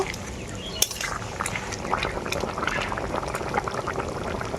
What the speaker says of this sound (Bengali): বড়ি আর বেগুন দেওয়ার পর ঝোলটাকে আমি আবারও কিছুক্ষণের মতো ফুটিয়ে নেব